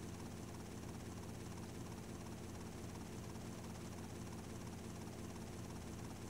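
Steady, continuous rotor and engine roar of a helicopter in flight in GTA Vice City Stories on PS2, loud and unbroken with no voices.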